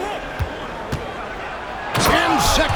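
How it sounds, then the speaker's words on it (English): A basketball slam dunk in the video game NBA 2K25, a sharp impact and rim clatter rising under crowd noise, with commentary and arena sound running throughout. "And Sexton slams it in."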